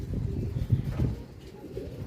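Racing pigeons at a summer derby race loft coo in low, throaty repeated calls, close by and fairly loud over a steady outdoor background.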